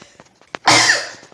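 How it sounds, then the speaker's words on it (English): A single close, loud sneeze from a person with allergies: a few quiet breaths and sniffs lead into one sharp, forceful burst that trails off over about half a second. "I'm gonna sneeze."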